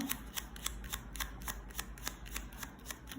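Tarot cards being handled and shuffled during a Thai card reading, a quiet series of soft papery flicks and snaps at an uneven rhythm, close up with faint background hiss.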